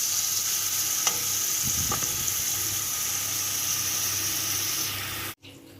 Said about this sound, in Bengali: এবারে এগুলিকে তেলের মধ্যে একটু ভাজা ভাজা করে নেব